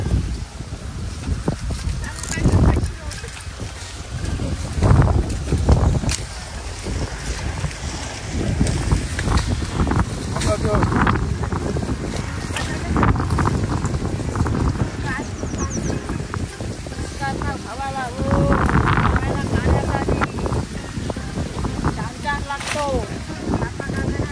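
Strong wind buffets the microphone in heavy gusts for a long stretch in open farm fields at Pandharpur, with voices talking faintly underneath.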